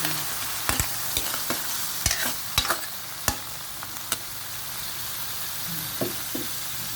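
Vegetables tossed into a hot pan for a home-cooked dish, a continuous sizzle with sharp intermittent clacks of a spatula stirring against the pan, fairly close, no talking.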